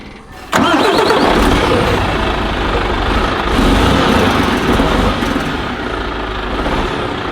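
A Mercedes-Benz Actros 2453 tanker truck's diesel engine fires up with a sudden loud roar, then holds a steady, heavy rumble close by, swelling slightly as it pulls away.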